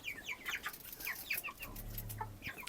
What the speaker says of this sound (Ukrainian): Бролери вже такі гарні сидять, великі бачите.